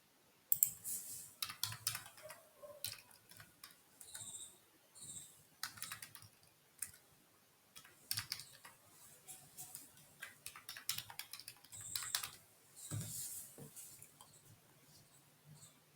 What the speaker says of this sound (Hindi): सो हम इसी से रिलेटेड कुछ कीवर्ड्स टाइप करेंगे।